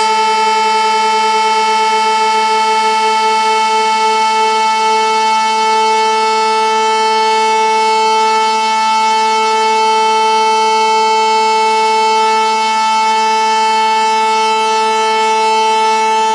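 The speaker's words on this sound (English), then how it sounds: "again you can hear those beats" Two steady, slightly mistuned tones from a tuning machine sustain together, their pitches pulsing in slow, regular beats that swell and fade over a long unbroken drone.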